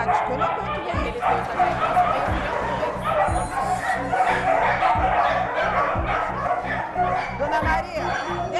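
Several small dogs bark and yip in repeated short bursts close by, mixed with a steady background of voices talking indoors in a house with many dogs.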